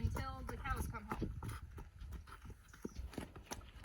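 Hooves of a horse cantering around an arena clop in a steady rhythmic pattern at moderate distance, with a person talking over the start.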